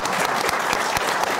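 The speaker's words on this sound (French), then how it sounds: "qu'on peut applaudir bien fort." Brief, steady applause from an audience at a televised debate panel, a dense wash of clapping with no pause.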